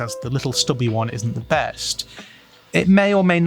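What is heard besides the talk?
No everyday noise stands out behind the speech.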